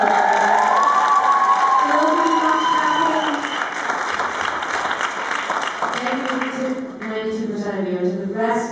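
An audience at a cinema Q&A in New York claps and cheers, loud at first and then thinning out, while people talk over the crowd noise.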